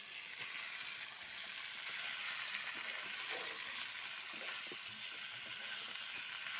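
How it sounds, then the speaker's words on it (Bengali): Soaked basmati rice hits a hot pan and fries with a steady, moderate sizzle, with faint stirring scrapes and no talking. "সেই ভিজিয়ে রাখা চালটা জল ছড়িয়ে রাখা আছে, সেটা আমি এবার এর মধ্যে দিয়ে দিলাম।"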